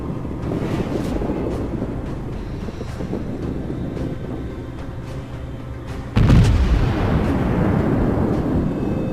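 Warship guns fire high-explosive shells in World of Warships: a steady low rumble of wind and engine, then a sudden heavy boom around the six-second mark that stays louder and dies away slowly.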